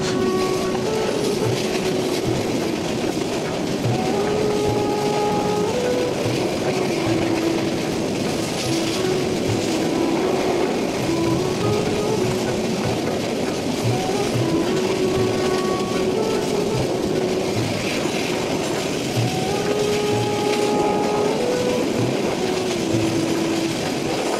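A passenger train running through the Sylhet region of Bangladesh toward Srimangal station, with a loud, steady rumble of wheels and carriages and recurring tonal squeals across the whole stretch.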